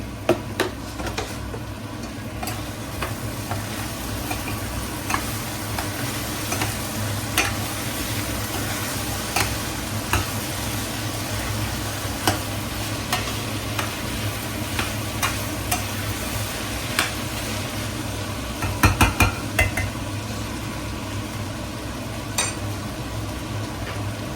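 Paneer curry is stirred as it fries in a pan, with a continuous close sizzle and bubbling under scattered ticks and scrapes of a spoon against the pan.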